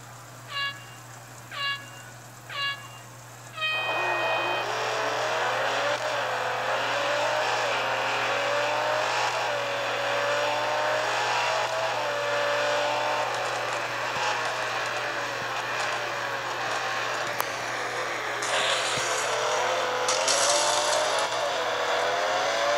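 A Lamborghini Centenario race car in a racing video game: three short countdown beeps, then a continuous engine roar that rises and falls through gear changes over laps, loud and steady, with brief clicks near the end.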